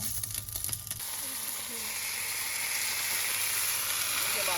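A steady, loud sizzle of handmade sausages frying in a pot fills the clip after a brief rustle at the start, hissing continuously and close up.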